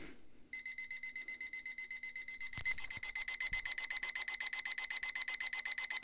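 A LEGO Belville toy alarm clock rings with a loud, steady electronic beeping that pulses rapidly and evenly for several seconds.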